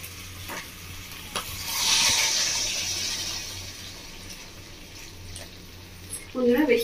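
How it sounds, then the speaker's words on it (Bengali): Hot water pours into a pan of mutton curry, producing a hissing, splashing surge that swells and then fades. Faint stirring clinks follow, and a voice speaks briefly at the end. "এবার গরম জলটা আমি দিয়ে দিচ্ছি।"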